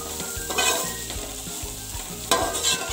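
Carrots and capsicum stir-fried over high flame for egg fried rice, with a close loud sizzle and repeated rhythmic spatula scrapes and knocks on the pan, no speech.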